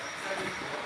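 A model train runs at an open house, a short steady wash of rumble and hiss with faint rail noise, fairly quiet and without talk.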